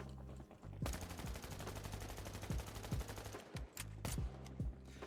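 Rapid automatic weapon fire in THE FINALS aimed at a blank wall, a long loud steady stream of shots, a short pause, then another burst.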